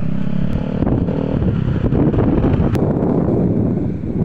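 Strong, steady wind buffets the microphone atop the mega dike at Dampalit, Malabon, a constant roaring rush with low rumbling gusts throughout.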